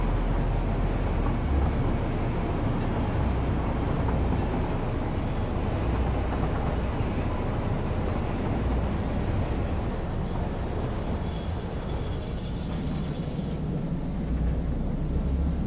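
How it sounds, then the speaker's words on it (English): A long train in the game Satisfactory rolls along ahead, a steady, dense low rumble of wheels and carriages holding constant throughout, with a faint metallic hiss rising near the end. "There's actually a train up ahead of me. Oh, he's going straight through, is he?"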